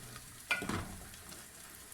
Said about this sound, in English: Then I'm going to put some soy sauce. I also love soy sauce a lot. I'm just going to mix that in